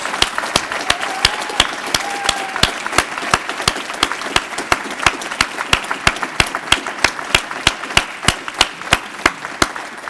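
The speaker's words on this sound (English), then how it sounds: "Please join me in one more round of applause for all of our incredible student leaders." An audience at a student life leadership awards ceremony applauds student leaders, a steady run of loud, evenly spaced claps close to the microphone that keeps going for the whole stretch.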